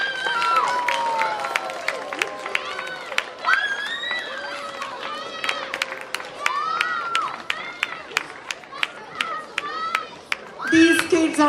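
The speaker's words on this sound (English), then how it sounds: "so please give them a big round of applause" Steady, sparse clapping from a temple audience applauding children who chanted shlokas at a Hindu celebration, mixed with chatter and children's voices throughout and a louder burst of crowd noise at the end.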